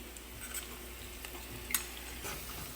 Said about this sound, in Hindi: मसालों को थोड़ी देर भूनने देते हैं